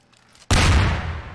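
Fireworks going off in a video game, one sudden loud boom after a quiet start, then a broad crackling roar that slowly fades over the next second, with no voices.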